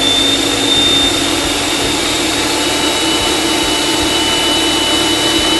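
A food processor purees cooked pumpkin into a thick, smooth mixture for pie, giving a steady, loud motor whir with a constant hum that runs unchanged from start to finish, with no voices.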